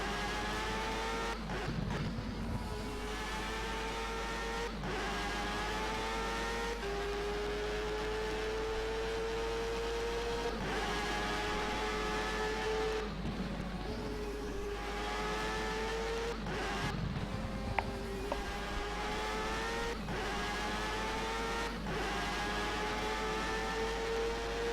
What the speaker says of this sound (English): Let's just have a look at listen to this engine.